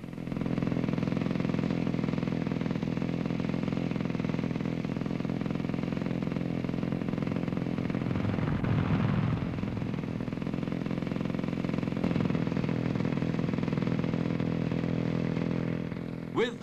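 Steady drone of motor scooter engines idling and puttering continuously in 1962, a mid-pitched hum with a slight rise midway, under a voice.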